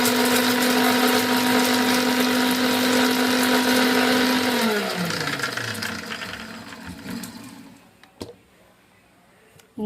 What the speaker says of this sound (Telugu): మిక్సీ పట్టుకుందాము